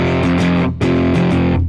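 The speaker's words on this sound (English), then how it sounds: "if I turn the distortion up to its full potential on this pedal at least" Electric guitar through a distortion pedal set to maximum gain, loud saturated chords with a thick buzzing tone, strummed in a chugging rhythm with a brief gap where the chord changes.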